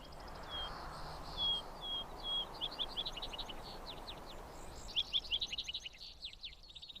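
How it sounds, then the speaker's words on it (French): Several birds sing and chirp in a wood under a light breeze, with short bright tweets and trills repeating faintly over a soft, airy background hiss. "un bois où souffle une légère brise et où résonne le chant des oiseaux"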